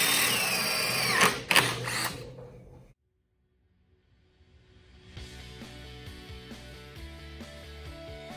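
A power drill bores holes for a DIY rack meant to hold eight snowboards, whining loudly and close for about two seconds before cutting off into silence, followed by a steadier tonal sound.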